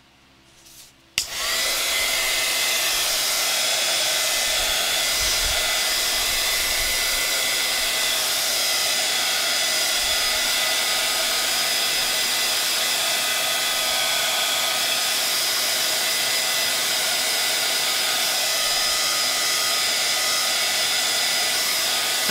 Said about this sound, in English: I'm going to dry this with a heat gun so you can see what it looks like at the moment